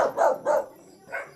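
A dog barks three or four times nearby, two quick sharp barks followed by a gap and a softer final bark.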